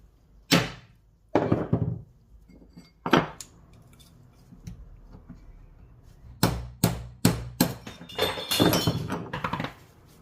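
Hammer blows knock out a tight clutch bearing on a Ducati 748, sharp metallic whacks in irregular bursts, a few early then a rapid cluster near the end, close and loud in a quiet workshop.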